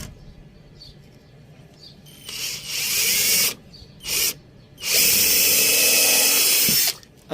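A power drill boring into pallet wood for a shoe rack, heard in three loud bursts: a short whine, a brief one, then a long sustained high drilling run, separated by quiet pauses.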